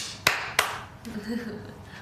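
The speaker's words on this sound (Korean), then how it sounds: "유나 사랑한다는 박수 3번" Two sharp, close hand claps ring out in quick succession during a relaxed livestream chat, followed by a softer talking voice.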